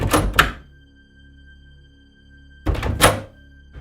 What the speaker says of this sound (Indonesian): mendengar suara pintu tetangga kamar kos seperti yang dibuka kemudian ditutup kembali